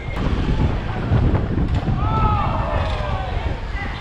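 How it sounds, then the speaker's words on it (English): Strong wind buffets the microphone during a motorcycle ride-out through New York City, a loud, steady low rumble filling the whole stretch with no breaks. "The wind, bro, that's what I'm saying."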